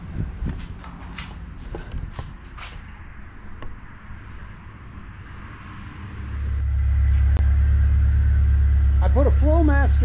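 A classic Volkswagen engine with a Flowmaster muffler and fresh spark plugs settles into a steady, loud, deep idle rumble for the last few seconds, after a stretch of talk and scattered clunks.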